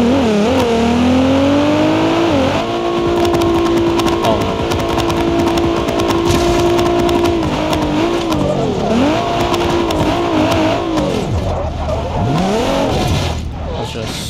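A Nissan R35 in the BeamNG driving game revs loudly and close, its engine pitch climbing, holding at a steady drone, then swooping up and down through shifts and acceleration for several seconds.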